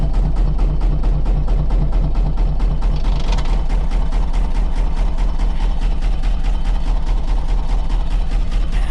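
A boat engine runs steadily with its transmission shifted into reverse, a loud, continuous low rumble with an even, rapid pulse throughout.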